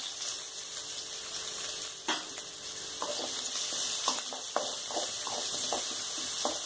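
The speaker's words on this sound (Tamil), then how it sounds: "இந்த கட் பண்ணி வச்சிருக்க ஜிஞ்சர் போட்டுருங்க" Chopped ginger, chillies and curry leaves frying in oil for Tamil ginger thuvaiyal, a steady close sizzle with a run of ladle scrapes and clicks against the pan, no voices.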